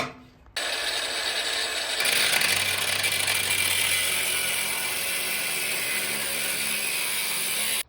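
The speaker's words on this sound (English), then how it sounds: "I couldn't get to the bolt, so I'm just going to cut it off." Bolt being cut off during an LS engine teardown, a steady, loud, high-pitched cutting whine that holds continuously for several seconds with no speech.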